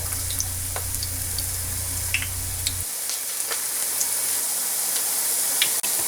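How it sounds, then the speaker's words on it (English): German potato pancakes sizzle steadily in a frying pan, a dense crackling hiss heard close up, with a low background hum cutting out partway through. "our potato pancakes are frying along nicely here"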